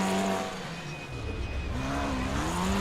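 A Formula 4 race car in a racing video game spins donuts at Mid-Ohio, its engine note rising and falling in loud wavering revs with faint tire squeal.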